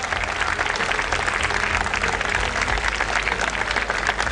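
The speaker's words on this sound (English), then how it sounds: "They deserve the biggest round of applause, parents." Parents and guests at a school PYP day event applaud students, a dense, steady crowd clapping that carries evenly for several seconds, loud and close with no talk over it.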